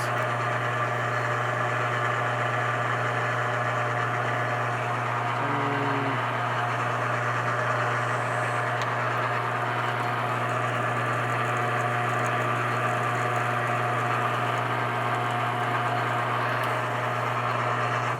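Metal lathe taking a cutting pass on a muzzle brake for a custom 300 PRC rifle, a steady machine hum and drone running evenly throughout with no talk.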